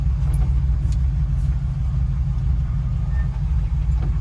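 An old car rolls through town on a first drive after an axle swap, its engine giving a steady, loud low rumble that holds constant throughout with no talking.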